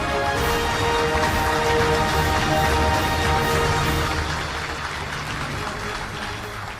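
Sustained applause from a large crowd at a South Korean Armed Forces Day ceremony with a military parade, dense and steady, easing off slightly toward the end.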